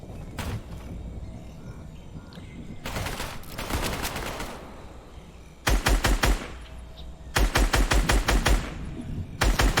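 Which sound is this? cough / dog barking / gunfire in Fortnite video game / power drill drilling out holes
gunfire in Fortnite video game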